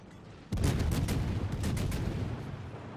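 The Atlanta cruiser fires its guns in the World of Warships video game, a sudden heavy boom followed by a rapid rolling series of further shots under a continuous rumbling battle din.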